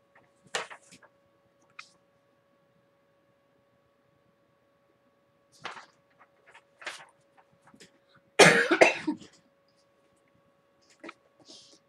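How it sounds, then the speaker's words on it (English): A few scattered coughs and throat-clearing sounds at close range, separated by long quiet gaps, with one louder, rougher burst near the end. "I'm gonna start coughing now"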